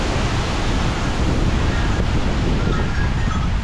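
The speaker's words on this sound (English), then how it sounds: "About the hardest gust I've seen yet." A powerful gust of Hurricane Francine roars steadily across the whole stretch, a dense, loud rush of wind battering the microphone with constant low rumble and no talk.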